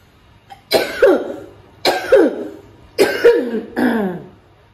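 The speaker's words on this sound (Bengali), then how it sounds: "কাশি যখন আসে কফ বের হয় না" Four harsh, loud coughs in a row from a boy with a cough that brings up no phlegm, close by, each a rough burst with a short gap between, the last longer and more drawn out.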